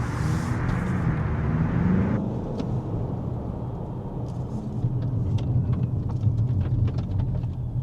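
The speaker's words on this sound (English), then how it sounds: "You have that grunty diesel and it's so torquey and so smooth." A diesel Audi A5 TDI mild-hybrid engine hums steadily from inside the moving car, a low, smooth drone with road and tyre rumble, fairly quiet and continuous without speech.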